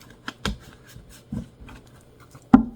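Several sharp, irregular riffling snaps of tarot cards being shuffled by hand, with quieter rustling between them and a louder final slap.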